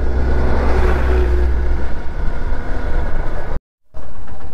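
A Hero Xpulse 200 motorcycle rolls slowly along a pothole-strewn road, its engine a loud, close, steady drone that cuts out briefly near the end, with no talking.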